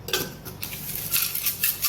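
A utensil clinks and scrapes against a pot while stirring food in a home kitchen, giving a few quick, close metallic taps and rattles without talk.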